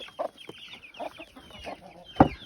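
Chickens and a rooster clucking softly in short, repeated bursts close by, with one louder squawk near the end.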